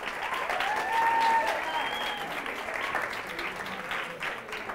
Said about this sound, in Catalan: Molt bé, un aplaudiment, si us plau